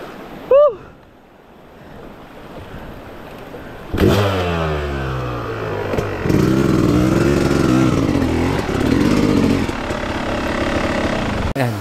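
Several trail motorcycles push through a deep, fast-flowing river crossing on a hard trail ride, engines revving loudly over rushing water and wind noise, with a brief sharp sound near the start before the engines surge in.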